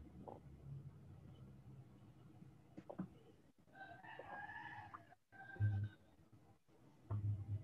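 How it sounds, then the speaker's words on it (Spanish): A rooster crowing at a house in Guatemala, a faint, somewhat distant call rising and falling near the middle, heard through quiet room noise with a few knocks and low hums around it. "se escucha un gallo cantando"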